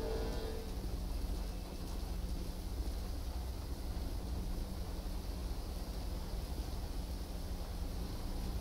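Steady rain falls in GTA 5, a constant dense hiss of downpour with low rumble, continuous and even throughout with no voices.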